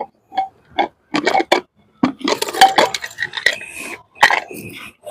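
Metal clinks and clatters of a cooled pressure cooker lid being handled and pulled open after cooking chicken curry, a series of short knocks and scrapes close by, with no speech.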